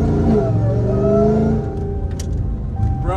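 A 900 whp Hellcat Charger with a loud exhaust revs hard and then settles to a lower rumble, heard from close by with no talk.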